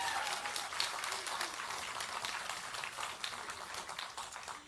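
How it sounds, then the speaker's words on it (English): Audience at a national finals event applauding the band, a dense, fairly faint wash of clapping that holds steady throughout. "Can we get a round of applause for our wonderful musicians tonight"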